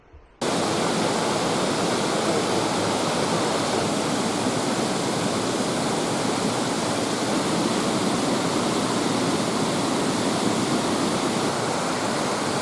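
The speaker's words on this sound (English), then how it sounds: "I can hear water and I can hear voices, so I must be getting close." Steady, loud rush of flowing water at a local swimming hole, a continuous broadband roar with no breaks, heard alone after a brief quiet start.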